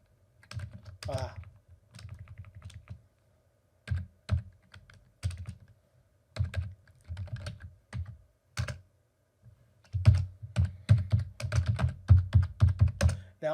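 Bursts of clicky keystrokes on a computer keyboard as Linux terminal commands are typed on a cluster worker node, coming in short irregular runs with pauses between them and a denser, steadier flurry toward the end.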